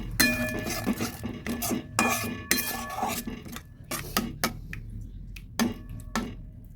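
Spoon stirring beaten sour yogurt into a mustard-yogurt dish in a metal pan, with repeated scraping clinks and knocks against the pan at close range and no talk.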